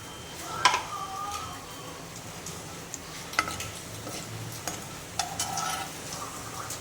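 Cumin, mustard seeds and curry leaves tempering in hot oil for an okra masala curry make a faint sizzle, broken by a few sharp pops and crackles spaced a couple of seconds apart.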